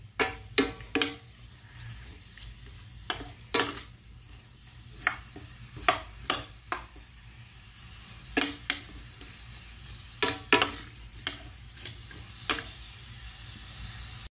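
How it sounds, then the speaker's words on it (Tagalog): Onions stir-fried in oil in a pan give a low steady sizzle, broken by repeated sharp scrapes and knocks of a spatula against the pan. The sound is close and irregular, with no talking. "lagyan natin yung ating sibuyas. Yan. Tapos halo-haloin lang muna natin"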